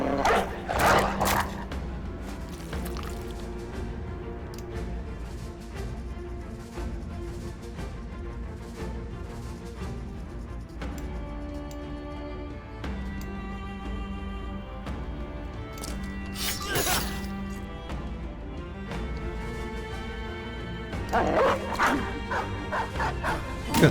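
A dog barks and yips in a video game, repeated sharp outbursts spread across a busy mix of game sounds and effects, with occasional whimpers, loud and close.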